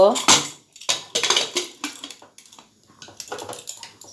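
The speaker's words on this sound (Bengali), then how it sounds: "ঢাকনাটা এবার বন্ধ করে নেব" Metal lid set down and closed on a cooking pot for hilsa-head bean dal, a series of close clattering clinks and rattles of metal on metal.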